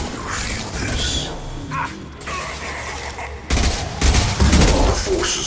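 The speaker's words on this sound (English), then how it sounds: "Firing concussive shot!" Concussive-shot firing and combat in the sci-fi shooter Mass Effect 2 Legendary Edition: a jumble of gunfire, mechanical clanks and crashing impacts, growing louder and more chaotic toward the end, with faint voices mixed in.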